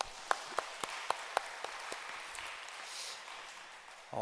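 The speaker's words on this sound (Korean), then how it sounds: "하나님께 감사의 박수 한번 올려드리도록 하겠습니다." A church congregation claps in thanks on the church's 89th anniversary. A few sharp, separate claps open it, then a soft, diffuse patter of applause follows, faint and somewhat distant.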